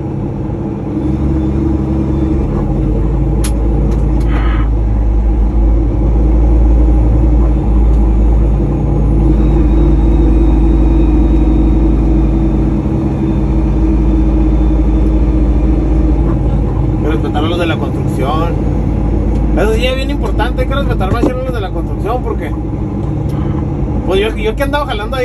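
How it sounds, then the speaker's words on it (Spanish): A truck's engine brake makes a heavy, continuous low rumble throughout, loud and close, with someone talking over it. "Que están muy bravos estos frenos de motor"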